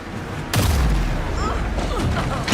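Gunfire in the video game Alan Wake 2, a sudden loud burst that becomes a dense, continuous barrage of shots and booms lasting to the end, with a voice speaking underneath.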